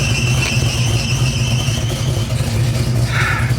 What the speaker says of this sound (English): I'm sorry about the squealy belt.